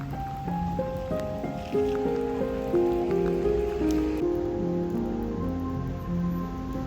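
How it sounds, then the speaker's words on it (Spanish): Rain falls steadily in a continuous wet patter during the 24 Hours of Le Mans, mixed with shifting tonal hums and drones like passing engines or music in the background, with no speech. "aunque no para de llover, llueve algo menos."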